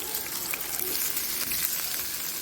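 Prawns frying in a hot pan give a steady, close sizzle that holds evenly throughout with faint crackles on top and no voices.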